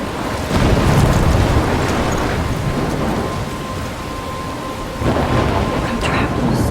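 Thunderstorm in the video game Life Is Strange: heavy rain roars steadily throughout, with a deep rumble of thunder swelling near the start and a second surge near the end.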